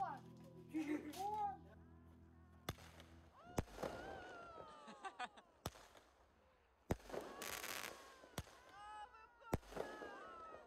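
Fireworks set off outdoors on New Year's Eve in Siberia, with sharp bangs and crackling bursts at irregular intervals, some near and loud, with voices talking between the blasts.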